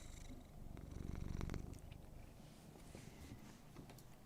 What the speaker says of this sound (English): he's purring right now. Like listen to this man.